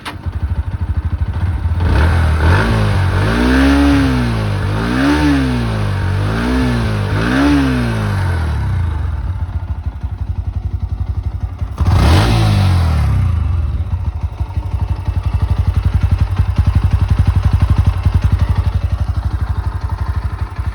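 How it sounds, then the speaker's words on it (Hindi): A Bajaj Pulsar NS 125 motorcycle exhaust revs close by: four quick blips rising and falling, then one more sharp rev after a pause, with the idle burbling between and afterward. "पहले NS 125 की आवाज़ चेक करवाते हैं"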